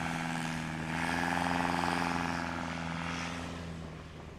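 A small STOL airplane at a Louisiana STOL practice event gives a steady propeller engine drone and buzz, moderately near, swelling slightly and then fading, with no talk over it.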